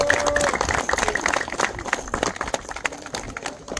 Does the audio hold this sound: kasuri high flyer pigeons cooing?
no